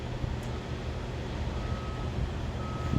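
A skid steer backing up gives off regular reversing beeps over a steady low engine rumble, at a moderate distance on a dirt work site.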